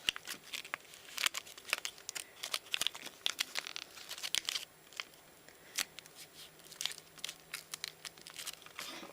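Origami paper crinkles and rustles as a sheet is opened and folded, with close, soft crackles and quick creasing snaps in an irregular run.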